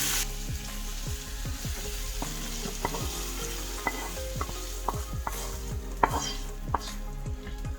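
Soft, browned onions frying in a pan for hidol hutki satni, a steady close sizzle broken by repeated sharp scrapes and taps of stirring, with no talk.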